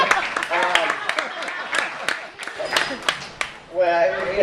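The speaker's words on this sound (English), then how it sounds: "Maybe you should get a little round of applause, too." Small group giving a brief round of applause, scattered claps in short bursts close by, mixed with voices and chatter throughout.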